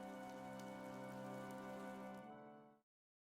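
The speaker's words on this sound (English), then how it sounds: "The rain is really coming down now." Heavy rain in the video game Fire Emblem Three Houses pours down as a dense, constant hiss with a humming musical bed beneath, then cuts abruptly to silence near the end.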